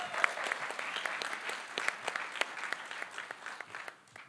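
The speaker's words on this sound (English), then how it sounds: "Now y'all can give them applause." Audience applause at a women veterans seminar, a steady patter of many hands clapping throughout, moderately distant and fading slightly toward the end.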